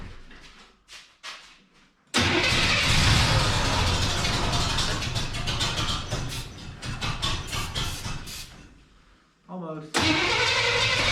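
A K20 engine on choke cranks briefly, then catches and runs loudly up close, its roar dipping and rising before cutting out and restarting near the end, with people talking over it.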